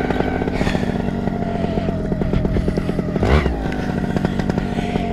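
A paramotor engine runs hard at throttle, with a loud, steady, buzzing drone close by and a brief swell partway through.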